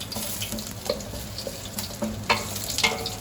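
Garlic sautéing in a pan for chilli, a close continuous sizzle with frequent spatula scrapes and taps, a couple of sharper clatters late on and no voices.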